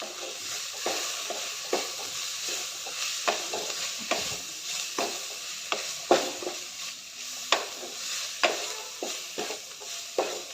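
Ginger-garlic paste is stirred in a pan while cooking carrot rice, a spoon scraping in repeated soft strokes over a light sizzle, close and without voices.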